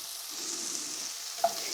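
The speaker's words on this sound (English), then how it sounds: "Once your butter is melted, you fry your onions." Onions frying in melted butter for a cheese and onion omelette give a steady, soft, close sizzle with a small clink near the end and no voices.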